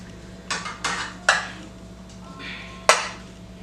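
A spoon scrapes and taps against a dish while smoothing dark brown sugar over sweet potatoes, with a handful of sharp clinks and soft scraping in between.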